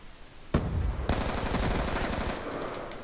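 Automatic gunfire erupts in Call of Duty Black Ops II, a single sharp shot followed half a second later by a sustained loud burst of rapid fire that fades out near the end.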